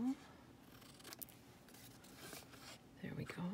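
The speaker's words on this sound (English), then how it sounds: "Let's trim it." Scissors trim a piece of paper for a handmade Christmas card, a few soft close snips under quiet room tone, with a voice speaking near the start and end.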